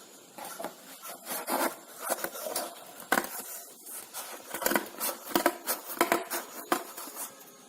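Scissors cutting a square out of paper or card for a rainbow pencil stand, a quiet, close series of uneven crisp snips and rustles.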